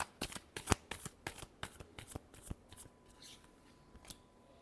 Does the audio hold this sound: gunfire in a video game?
no